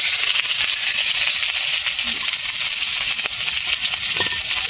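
Chopped onion and chilli hit hot oil tempered with a dried red chilli and nigella seeds, giving a steady, even sizzle that hisses without a break throughout and has no talking over it.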